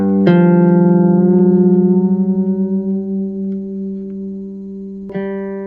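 A single plucked cigar box guitar string rings out with a wavering pitch that slides as it is tuned during decay, then a second pluck near the end; no talking.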